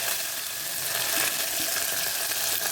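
Onions sautéing in a pan: a steady, close hiss of frying with light crackles and no voices.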